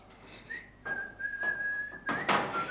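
A man whistles a long sustained melodic tune while doing manual work with a ladder, the steady whistled note rising and holding, with some knocking and clattering noises near the end.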